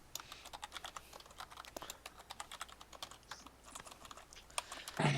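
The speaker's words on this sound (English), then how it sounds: "Too much typing." Fingers typing on a computer keyboard, a quick irregular run of close, crisp key clicks with a louder clack at the end, with no talking over it.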